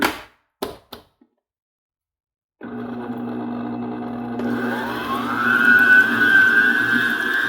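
An electric stand mixer starts up after a few clicks and a stretch of silence, then whirs steadily at a low speed, its motor whine rising and growing louder as it runs on alone.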